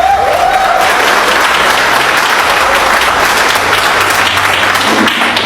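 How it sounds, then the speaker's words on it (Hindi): A hall full of people at a Vestige business meeting bursts into loud, continuous clapping, a dense, even wash of applause lasting throughout. "एक बार जोरदार ताली होनी चाहिए।"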